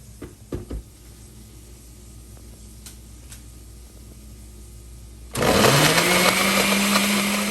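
A blender purees tomato, garlic and ginger, starting abruptly with a loud, steady whirring motor after a quiet stretch with a few clinks.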